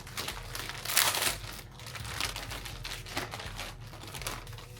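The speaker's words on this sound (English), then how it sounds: "What I'm gonna do is just rip this right open here." Cardboard shipping package holding an OVO holiday Gingerbread Owl hoodie being ripped open by hand: close crinkling and tearing with a louder burst of ripping near the start, then steady rustling of paper and plastic.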